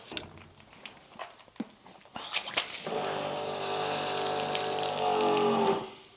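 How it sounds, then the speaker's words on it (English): Water pours into a bottle, starting with scattered clunks and splashes before a steady rushing fill swells and holds for several seconds, then cuts off. "Then obviously fill the rest up with your water."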